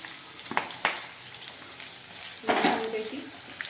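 Green chillies, onion and bay leaf dropping into hot oil in a pan for a vegetable dish: two brief sharp clatters, then a louder burst of sizzling that settles into a steady fry, near and moderately loud.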